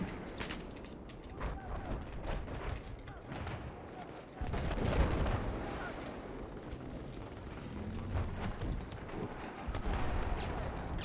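Dense Battlefield 4 gunfire with booming blasts and rapid shots, near and loud, continuous throughout under brief bits of talk.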